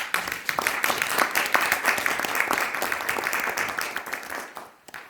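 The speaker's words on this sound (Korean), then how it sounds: "지금 와 계신데 잠깐 박수 부탁드리겠습니다" An audience at an invited lecture claps warmly for the arriving speaker, a dense round of applause with distinct nearby claps that tapers off at the end.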